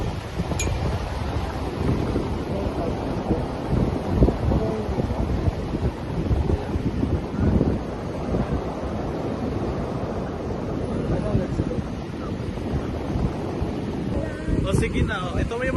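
Wind buffets the microphone beside the sea on the Jeddah Corniche, with waves washing in and a steady roar of surf, loud and constant, while people chat nearby.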